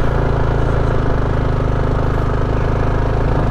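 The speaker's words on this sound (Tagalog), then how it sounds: "Hirap na hirap sa segunda yung motor yo." A motorcycle engine labours uphill in second gear, a steady low droning rumble close by throughout with a slight shift in pitch partway, no talk over it.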